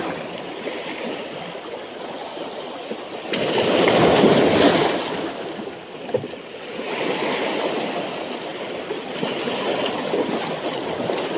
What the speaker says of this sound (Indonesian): Besar ombaknya.